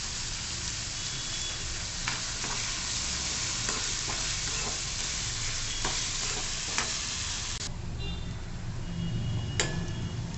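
Chopped onion with turmeric fries in a pan with a steady, close sizzle, punctuated by light ticking scrapes and taps of a spatula as it is stirred.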